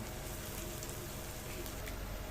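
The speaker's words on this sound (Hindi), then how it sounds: "ये हमने मसाला धीरे धीरे भून रहे हैं। लहसुन को चलाते रहे ताकि ये चिपके ना।" Garlic and masala fry in a pan for paneer do pyaza, a dense, even sizzle and crackle that fills the whole short stretch without any voices.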